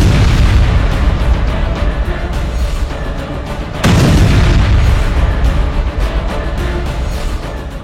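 Missile attack explosions rumble as a continuous heavy, booming roar with a sharp blast midway, loud and dense throughout, no voices.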